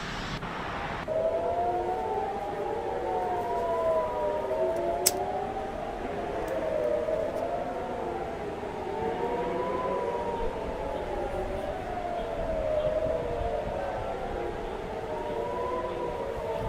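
An air raid siren in Jerusalem wails, rising and falling in long, slow sweeps, sounding steadily from a distance over a faint background hiss.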